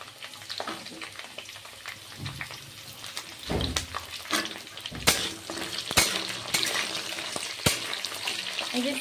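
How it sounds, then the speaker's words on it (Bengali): Potatoes fry in a pan with a continuous close sizzle, punctuated by stirring scrapes and the occasional clank of a utensil against the pan. "দেখো আলুগুলো ভাজা হয়ে গেছে"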